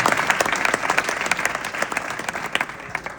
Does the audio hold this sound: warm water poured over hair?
no